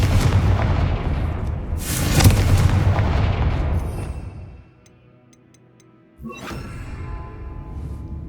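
A Confringo fire spell blast in Hogwarts Legacy: a loud, rumbling explosive burst that swells and fades over several seconds, a short near-silence, then a second sharp blast with lingering crackle.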